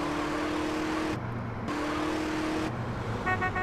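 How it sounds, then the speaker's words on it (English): A car engine drives along mountain switchbacks in the video game GTA San Andreas, a steady droning hum with pitch shifts and brief dips as the throttle changes, fairly close and without talk. "This car handles pretty good, I will say that."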